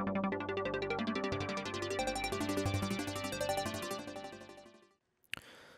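The Flying Apes preset of a VST synthesizer plugin in Reason plays a dense, busy pattern of rapidly pulsing tones for about four seconds, then fades out, followed by a short click.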